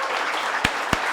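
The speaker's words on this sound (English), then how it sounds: "So big round of applause for" A fundraiser celebration audience applauds for Eric. A steady wash of crowd noise carries two sharp, close hand claps that stand out clearly near the end of the short burst.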